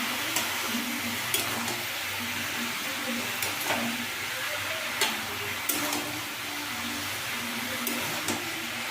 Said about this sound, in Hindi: हम इसको अच्छे से मिक्स कर लेंगे, नमक और हल्दी को सब्जी के साथ में